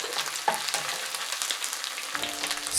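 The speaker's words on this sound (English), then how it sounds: "Scramble them and continue stirring to coagulate them." Two eggs being scrambled and stirred in a frying pan beside chicken pieces over low heat: a steady soft sizzle with light scraping and tapping of the utensil against the pan, close up and without speech.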